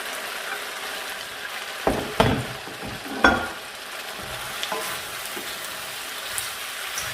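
Vegetables for a shrimp stir fry fry in a hot pan, a steady sizzle with a few clattering stirs and scrapes partway through.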